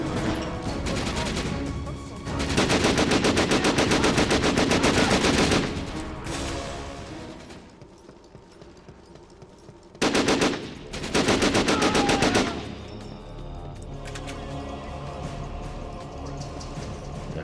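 Automatic gunfire in the video game Syphon Filter: Omega Strain, long rapid bursts separated by quieter stretches, loud and close, with no talking.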